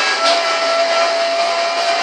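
A Bugatti racing at top speed in Forza Horizon gives a dense, continuous high-pitched engine roar with a steady tone, loud and unbroken, with no talk over it.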